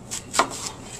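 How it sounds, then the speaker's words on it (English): A knife slicing through a red Honeycrisp apple: a few soft, brief cutting strokes, the clearest one in the middle, close and fairly quiet with no talking. "and then I sliced the apple"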